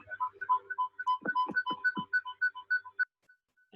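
A phone plays a video-call ringtone, a quick melodic series of electronic chime notes in a steady bouncing rhythm, clear and close, with a few low thumps mixed in and silence near the end.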